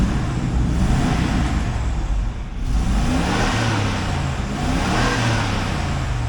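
A 2000 Cadillac Escalade GMT400 with the 5.7L V8 idling, loud and close, a continuous low rumble with a slight rise and dip in the middle, with no talk.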